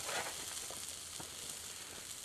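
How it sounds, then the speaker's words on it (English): Steak sizzles on the grill plate of a folding Firebox camp stove, a steady dense hiss, close and fairly loud throughout, with no talking over it. "We're grilling."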